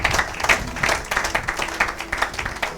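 A church congregation bursts into applause during a worship service, a dense, rhythmic round of clapping from many hands that stays fairly loud and even for a few seconds.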